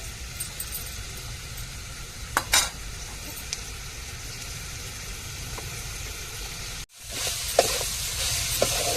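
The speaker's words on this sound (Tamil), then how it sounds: "நம்ம கீழே பிடிக்க விடாமல் கிண்டிக்கிட்டே இருக்கணும்" Dried fish frying with onion in a pan hisses steadily while a utensil scrapes and clicks through it; after a brief cut near the end the sizzle returns louder and brighter.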